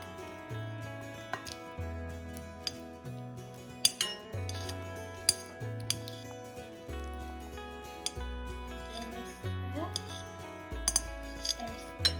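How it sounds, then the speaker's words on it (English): Butter being chopped in a bowl with cutlery while baking lemon cupcakes, giving repeated clinks and taps of metal on the bowl over steady low background music. "So now we need to chop the butter a bit to make it easier to stir."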